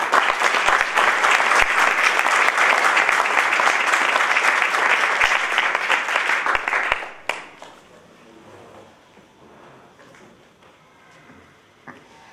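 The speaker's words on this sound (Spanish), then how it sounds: "Bienvenida y otro aplauso." Loud, sustained applause from an audience welcoming a speaker at an outdoor talk, filling the space for about seven seconds before cutting to quiet ambience with a few faint sounds.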